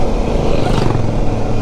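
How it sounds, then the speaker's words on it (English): An old Norton motorcycle passing at a vintage motorcycle event at Mid-Ohio Raceway, its engine a loud, close, continuous roar throughout the short stretch. "There was an old Norton that just went by."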